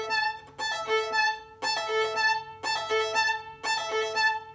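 Solo violin plays the top part of measure 9 of the Avengers theme, four sustained bowed phrases with sharp note starts, close and unaccompanied.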